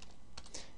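A username and password being typed on a computer keyboard: a quick run of soft, close key taps, faint and alone.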